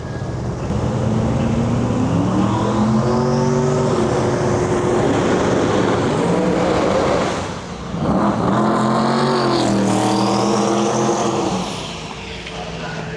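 Drag racing pro mods, a twin-turbo car and a screw-blown 6th gen Camaro, roar loudly with rising, revving engine pitch, a brief dip, then another surge of heavy acceleration, with an announcer talking throughout.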